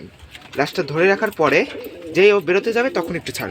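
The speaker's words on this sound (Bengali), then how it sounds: "এই দেখেন কি পরিমাণ ডাক" Male pigeon cooing in a cage, repeated throaty calls mixed in with someone talking close by, the coos partly under the speech.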